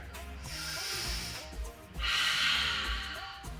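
Deep breaths during a yoga class: two long, loud breathy exhalations, close to the microphone, the second stronger than the first, with no talking.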